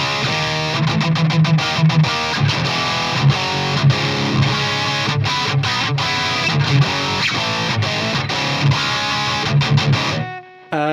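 Distorted electric guitar played through the RedSeven Amp Central EVO V30 UK preset, a blend of a 414 and an SM57 on a British V30 speaker, in a dense, loud riff with palm-muted chugs and accents, stopping abruptly near the end.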